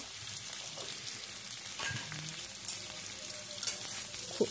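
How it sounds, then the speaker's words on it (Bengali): Chicken feet fry and get stirred on high flame, a steady broadband sizzle with occasional scrapes of a spatula against the pan, fairly faint and continuous. "এবার খুব ভালো করে আমি এটাকে একদম হাই ফ্লেম করে খুব ভালোভাবে নাড়বো।"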